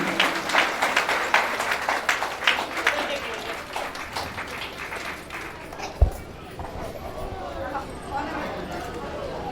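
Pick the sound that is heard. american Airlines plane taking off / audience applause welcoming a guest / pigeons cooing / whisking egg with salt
audience applause welcoming a guest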